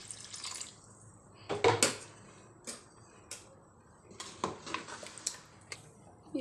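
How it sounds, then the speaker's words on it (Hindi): Water poured into a pot of chicken and softened potatoes in a home kitchen, heard as intermittent splashing bursts and clinks, fairly close and moderate in level, with no talk over it. "अभी मैं पानी डाल दूँगी।"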